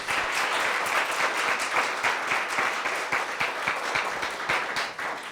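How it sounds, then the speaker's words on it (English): A room full of listeners applauds panelists after a community forum on healthcare tax credits, with brisk, dense clapping sustained for several seconds at an even level and no voices over it. "please give a round of applause to our panelists"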